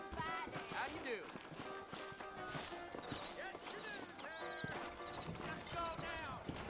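Horse hooves clip-clop in a steady trot with an occasional whinny in the video game Red Dead Redemption, heard beneath talking voices and background music.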